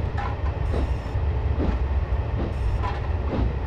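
Rumbling run of a 7F steam locomotive in Train Simulator 2014, a continuous low rolling rail noise with faint rhythmic clatter, steady and fairly close, with no talk over it.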